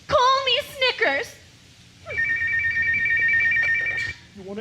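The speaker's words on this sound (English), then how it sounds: "You want to answer the phone there, Snickers?" A telephone rings in a steady electronic trill lasting about two seconds, preceded and followed by lively speech from people in a comedy stage show.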